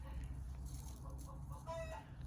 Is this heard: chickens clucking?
yes